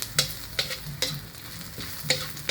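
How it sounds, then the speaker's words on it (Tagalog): Ingredients for ginataang suso, a coconut-milk snail dish, frying in a pan until brown, with a steady close sizzle punctuated by regular scraping stirs of a spatula about every half second. "nagpiprito tayo. Gusto ko kasi yung brown na brown lahat para mabango"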